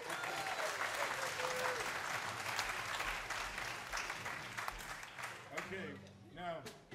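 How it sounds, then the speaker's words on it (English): Children in a family jazz matinee audience clap for themselves, a loud burst of crowded applause that thins out and fades, with voices talking over the tail end. "And clap for yourselves."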